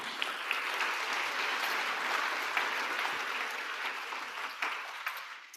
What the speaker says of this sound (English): A round of applause for Nana.